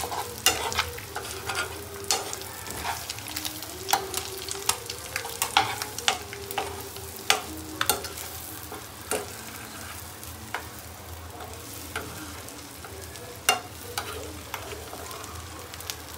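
Egg tawa masala frying on a griddle over a high flame, with a continuous sizzle and frequent sharp scrapes and taps of a spatula stirring, close and alone.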